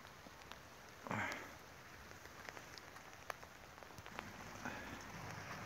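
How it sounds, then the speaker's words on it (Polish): Steady rain patters on a surface, soft and continuous, with a brief louder rustle near the start. "Coraz bardziej to pada."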